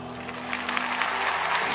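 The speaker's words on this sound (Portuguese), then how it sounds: "posso pedir mais uma salva de palmas?" A youth church convention crowd gives a round of applause, a steady, fairly soft wash of many hands clapping that swells slightly toward the end, with a low hum running underneath.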